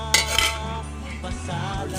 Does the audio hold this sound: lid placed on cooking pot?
yes